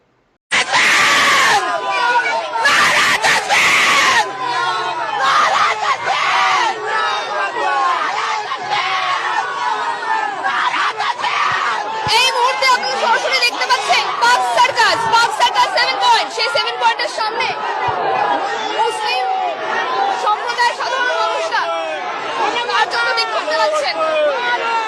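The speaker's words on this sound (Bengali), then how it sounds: "দেখুন এই ভিডিওতে কিভাবে রাস্তায় একেবারেই মানে স্লোগান নারাবাজি কিভাবে চলছে" Street crowd chanting slogans on a played clip of unrest in Park Circus, Bengal, with shouts, screams and agitated babble swelling and breaking in bursts, sustained and loud throughout.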